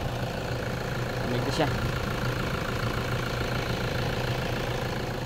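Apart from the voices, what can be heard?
Toyota Hilux engine idling with radiator fan running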